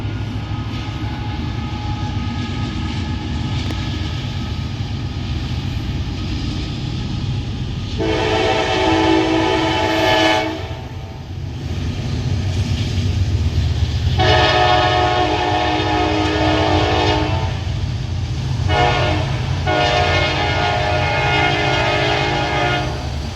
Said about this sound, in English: Sometimes I don't make it to the trains in time, just like this 16R here.